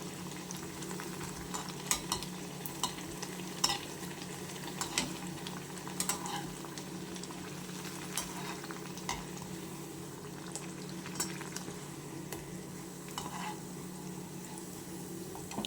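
Puris deep-frying in hot oil for a Marathi fasting-style puri bhaji, a steady bubbling sizzle across the whole stretch with occasional sharper pops and a light clink of a utensil, no talking.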